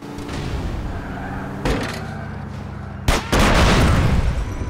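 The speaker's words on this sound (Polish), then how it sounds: "Pięknie wszystko wybuchło." A car explodes in the video game Grand Theft Auto San Andreas, with a sharp blast followed by a second, bigger boom and rumbling aftermath over a continuous engine-like drone.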